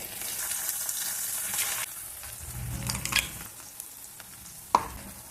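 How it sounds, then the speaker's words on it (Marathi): Ginger garlic paste frying in hot oil for a methi masala curry opens with a bright, loud sizzle that fades after a couple of seconds, followed by scraping stirs and a sharp utensil knock near the end. "ही सुद्धा आपण तेलामध्ये छान परतून घेऊया"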